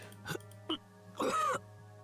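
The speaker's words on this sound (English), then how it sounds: "I coughed down at the ground" A few short, rough coughs, two brief ones then a longer strained one, close and fairly quiet against a low steady hum.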